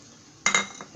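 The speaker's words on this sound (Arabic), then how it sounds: "كندير القديد ديالي في الطنجره" Dried meat (gueddid) dropped into a metal cooking pot, a couple of quick clanking knocks close by followed by faint scraping, in a Moroccan kitchen.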